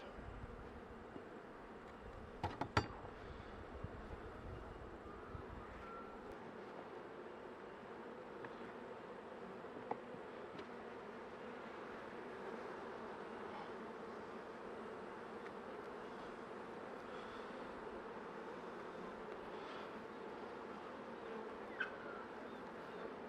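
Honey bees buzz steadily throughout a January honey harvest, a dense, even drone close to the hive with a few brief knocks near the start.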